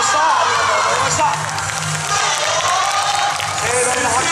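Audience applause at a yosakoi dance festival: a dense, loud, steady wash of clapping and crowd noise, with a voice speaking over it throughout.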